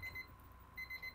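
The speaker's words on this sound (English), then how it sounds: "Turn that timer off." A timer alarm beeps in quick repeated chirps, sounding in a burst, pausing briefly, then resuming, fairly faint over a low background hum.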